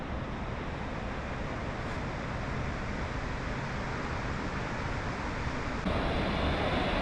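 A waterfall on a hiking trail in Chapada dos Veadeiros in Brazil's highlands pours in a constant broadband roar, steady and fairly close, with no voices and a slight rise in intensity near the end.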